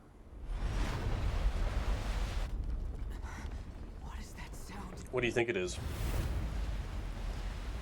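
A giant explosion in the video game Valkyria Chronicles roars as a broad, sustained rumble lasting several seconds, loud and continuous, with people talking over it.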